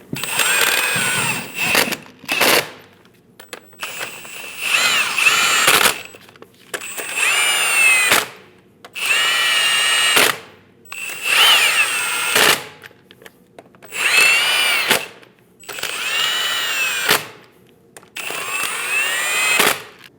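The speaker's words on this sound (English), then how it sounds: "Snug down all the lug nuts." A power tool snugs down lug nuts on a 2001-2006 Chevrolet Silverado 2500 HD rear wheel during a brake job, firing in about eight short, loud whirring bursts separated by brief silences.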